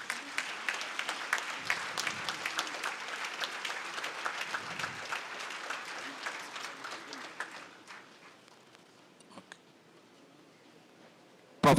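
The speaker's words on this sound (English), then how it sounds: "Please give a big applause" Audience applause at an Indian awards ceremony, a roomful of people clapping steadily and fairly quietly for several seconds before it tapers off into near silence, with a sharp thump at the very end.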